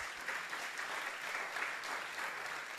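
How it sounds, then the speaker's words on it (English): An audience applauds a panel at a talk event, steady clapping spread across a crowd at moderate distance, even and sustained throughout with no voices on top. "Please, a round of applause for our panel."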